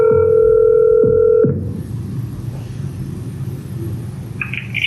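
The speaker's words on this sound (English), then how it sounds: "A concerned citizen known as Celebrity dialed the Houston Police Department to authenticate her concerns." A telephone call to the Houston Police Department, three steady electronic tones pulsing in quick succession, then a low rumbling interior hum as the line connects.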